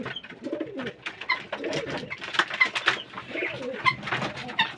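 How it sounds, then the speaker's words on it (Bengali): Several pigeons coo steadily in low, rolling calls, close by and overlapping, while the flock feeds and scuffles in a loft kept alongside partridges and chickens. "দেখেন মারামারি করতেছে কবুতরগুলো, মাশাআল্লাহ কত সুন্দর করে খাচ্ছে"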